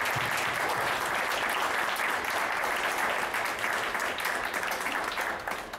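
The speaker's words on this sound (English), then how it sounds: "a preemptive round of applause for all the support that the entire staff has been offering" Audience applause fills a campus lecture event before a speech, dense and steady with sustained clapping from a large crowd for about six seconds, tapering slightly at the end.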